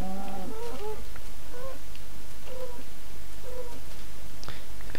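A cat meows several times in Minecraft, short tonal calls spaced across the moment over a low steady game background.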